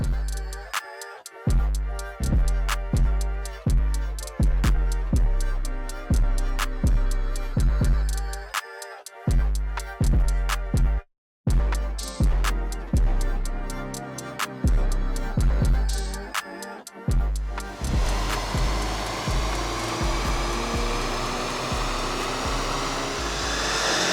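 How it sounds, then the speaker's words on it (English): An EA888 car engine with its stock intake is run up on a dyno, giving a loud rhythmic series of revving pulses that build into a sustained roar near the end, with one brief cut in the middle. "But the stock intake, we'll get it on the dyno now"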